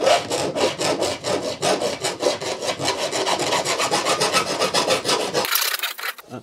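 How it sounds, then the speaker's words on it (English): A file rasping an inside taper on the cut edge of a soil pipe, in quick, even back-and-forth strokes that are loud and close and that stop abruptly near the end. "what we are going to do is just a little inside taper just to make sure there's no like sharp edges on the inside"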